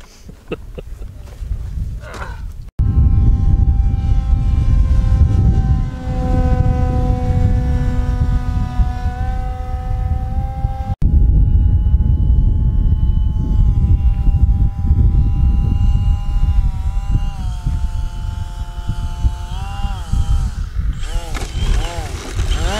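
Small airplane at a grass airfield in Iceland flying past and coming in to land, a loud droning engine with shifting pitch throughout, near and steady, with a brief gap midway.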